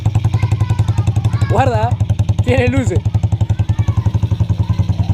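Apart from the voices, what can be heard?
used delivery motorcycle idling after kick start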